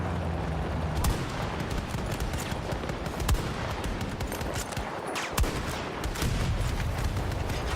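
Gunfire in the video game Battlefield 6: rapid bursts of shots with sharp, distinct cracks standing out over a dense, continuous wash of battle noise, some close and some distant, with no talk.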